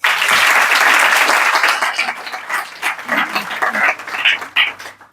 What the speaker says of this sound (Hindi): खूब बजाओ तालियां